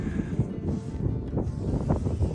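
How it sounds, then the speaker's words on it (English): Strong wind buffeting the microphone on an exposed mountainside between rain showers, a steady low roar with gusty surges throughout and no one speaking. "right now we're on that get out and glass in between rain sessions, so super windy."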